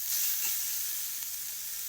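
Drumstick leaves frying in oil in a kadai, a soft steady hiss of sizzling close by with no talk, lasting under two seconds.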